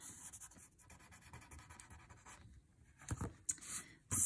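A dark ink pen scratches across paper in steady, close strokes, a soft papery scribbling that grows a little louder and sharper near the end, with no talking.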